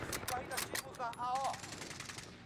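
Rapid video game gunfire rattles out in a quick burst of sharp, close shots, followed by ringing tonal echoes that fade away.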